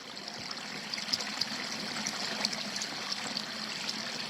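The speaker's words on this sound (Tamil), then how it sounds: "இத்திசையில் தான் அருவியின் சத்தம் கேட்கிறது" A waterfall sound effect in a school stage play: a steady, soft rush of falling water with faint high sparkle, continuous and even throughout, heard from a short distance without any voices.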